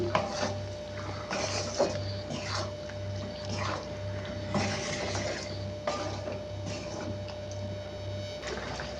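Mango pieces stirred with jaggery in a pan over a very low flame: soft wet scraping and clacking from a spatula in irregular strokes, with a low steady hum underneath.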